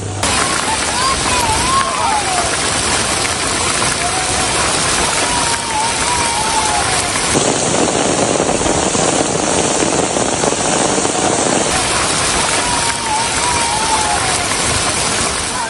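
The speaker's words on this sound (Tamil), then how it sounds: "பைன் மர சோலை, குணா குகை உள்ளிட்ட சுற்றுலா தலங்களில் மாலையில் ஆலங்கட்டி மழை பெய்தது." Hail and heavy rain pour down steadily in the evening at the Kodaikanal hill station tourist spots, a dense loud hiss and patter throughout, with faint voices and a brief high tone mixed in.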